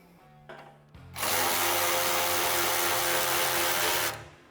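A power tool drives original factory 15mm bolts into an Attica Terra Series steel front bumper on a 2021-plus Ford Bronco. It whines loudly and steadily for about three seconds after a short ramp-up, close by and alone.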